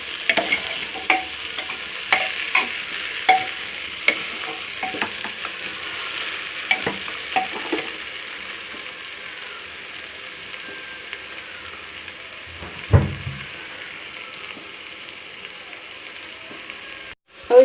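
Pulao rice sizzles steadily in a hot pan while a spoon scrapes and stirs it in a series of irregular clacks, followed by a louder knock near the end.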